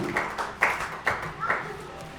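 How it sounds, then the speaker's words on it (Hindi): A few separate bursts of clapping at a Jain Shrut Panchami community program, an uneven handful of claps rather than full applause, with a voice heard among them. "बहुत सुंदर, जोरदार तालियां।"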